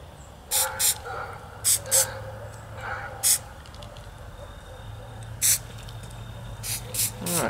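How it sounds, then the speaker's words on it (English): Purple spray paint hisses onto a handmade Christmas decoration in several short, sharp bursts spread across the stretch, over a low steady hum. "Spray this one purple."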